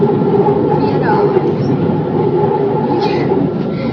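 A metro train rolls along with a loud, steady rumble and a faint high whine, while people talk over the noise inside the carriage.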